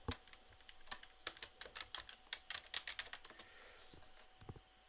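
Quick bursts of keystrokes on a computer keyboard as a password is entered into an SAP system login, close, crisp taps in an irregular run that trails off.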